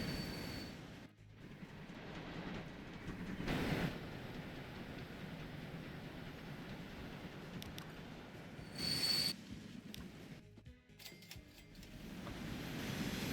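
Trains run through a railway network in the simulation game Transport Fever 2, giving a low, steady rolling rumble with faint wheel squeal. Two louder swells pass by, and the level is quiet overall.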